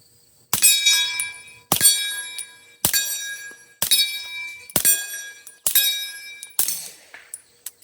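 Seven loud gunshots from a Hybrid 46 DTM suppressor fitted to a PSA Dagger pistol, cycling cleanly, each crack followed by a ringing metallic clink, fired at a steady pace about one second apart.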